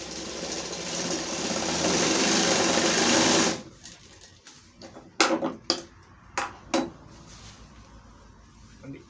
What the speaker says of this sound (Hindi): यहाँ से हल्का यहाँ पे सिलाई मारेंगे, फिर इसको हल्का घुमा लेंगे।